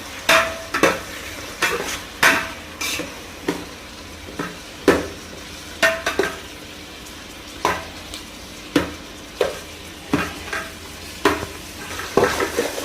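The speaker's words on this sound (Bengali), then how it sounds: "তো ব্রাউনি না হওয়া পর্যন্ত আমাদের এভাবে নাড়তে চাপতে হবে।" Mutton with spices is stirred and pressed in a pan until browned, a spatula scraping and knocking in a rhythmic series of close, sharp strokes over a low sizzle.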